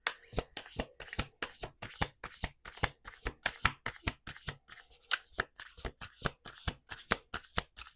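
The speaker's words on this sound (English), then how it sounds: "Two more shuffles." Tarot cards shuffled by hand in a steady run of crisp riffling snaps, roughly three per second, close and clear, with no talking.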